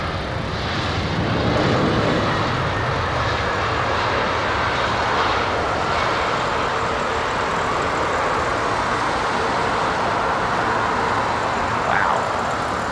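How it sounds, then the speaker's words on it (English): An airliner lands on Heathrow runway 27R, its engines roaring loud and continuous as it brakes hard along the runway, a broad sustained rumble with no voices over it. "That just goes to show the stopping power of that aircraft"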